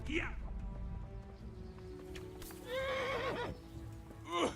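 A horse in the game Kingdom Come: Deliverance whinnies twice, a high, wavering neigh near the start and a longer, louder one midway. Hooves thud underneath, and a voice calls out briefly at the end.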